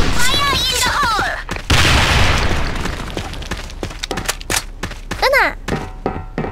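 A grenade detonates in the shooter game Sudden Attack, a loud broadband blast near 1.6 seconds that rumbles on for about a second, set among sharp in-game thunks, shots and bursts. Brief voice chatter comes before and after.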